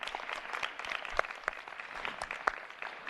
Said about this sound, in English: So if we could give a round of applause to ACC.